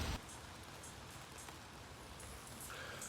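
Steady rain falls throughout during an outdoor run, a dense continuous wash of patter with no voices.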